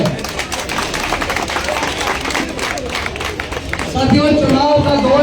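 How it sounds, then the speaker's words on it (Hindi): Rally crowd applauding to welcome a candidate, dense steady clapping from many hands that swells louder near the end, with a voice speaking over it. "मैं सबसे कहूँगा कि जोरदार तालियों से उनका स्वागत किया जाए।"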